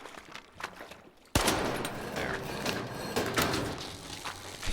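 Gunfire in S.T.A.L.K.E.R. 2 starts abruptly after a quiet moment, a sustained burst of rapid shots with mechanical rattling that stays loud to the end.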